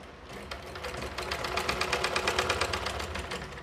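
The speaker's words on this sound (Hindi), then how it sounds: "इसको ऐसे करके फोल्ड करके यहाँ ऊपर से एक एक सिलाई लगा देंगे।" A sewing machine stitches lace onto a small Laddu Gopal dress, a steady fast mechanical chatter that builds slightly in speed and stays close and alone.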